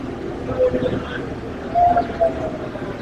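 A Vande Bharat express train rumbles steadily nearby with a few short tonal squeals or horn-like tones rising above the continuous mechanical noise.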